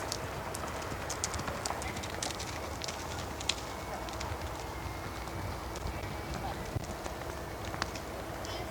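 During a riding lesson, a horse canters with a rapid, steady series of soft hoofbeats heard at moderate distance, while an instructor's voice talks over the rhythm.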